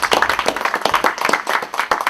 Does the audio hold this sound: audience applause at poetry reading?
yes